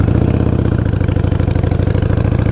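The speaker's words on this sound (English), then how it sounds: "So I'm going to roll on into first gear." A motorcycle engine chugs in a fast, even, loud pulsing rhythm close by, rolling off into first gear with no voice over it.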